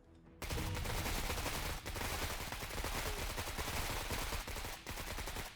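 Sustained, loud, rapid gunfire from a squad firefight in the tactical game Menace, one dense automatic burst after another with scarcely a pause.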